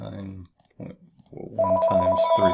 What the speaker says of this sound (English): that's my home phone